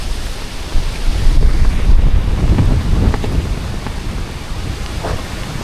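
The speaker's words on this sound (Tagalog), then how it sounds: "Grabe. Ang lakas ng hangin dito." Loud, steady wind roars and buffets against the microphone outdoors at the Divine Mercy Shrine in Cagayan de Oro, a constant rushing blast with no voices.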